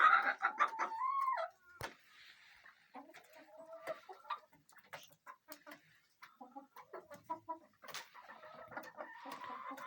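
A rooster on a village farm clucks in short, repeated bursts, close and fairly faint, with quiet pauses between calls and a few sharper notes.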